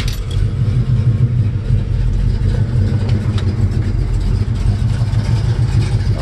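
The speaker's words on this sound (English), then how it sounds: "Let's fire it up and take a listen." A 1968 Chevrolet C10 pickup with a mild cam and overdrive transmission idles loud and close, a steady, lumpy low rumble after a brief start at the beginning.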